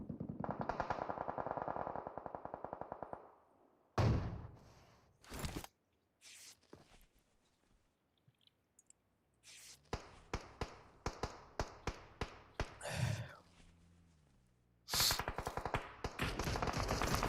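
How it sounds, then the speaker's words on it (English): A heavy AWM sniper rifle thump in PUBG Mobile during competitive scrims, heard as sharp loud shots among a burst of rapid gunfire and tapping impacts, alone with no talk. "now you hear that thump coming from that AWM right here"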